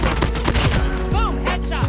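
Gunfire in the mobile shooter Call of Duty Mobile, a quick burst of several loud, close shots in rapid succession over game sound effects.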